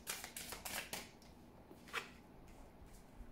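A deck of tarot cards is shuffled in quick, soft riffling bursts close by, followed by a quieter pause and a single faint flick.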